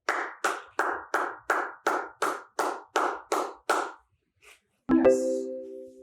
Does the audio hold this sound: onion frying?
no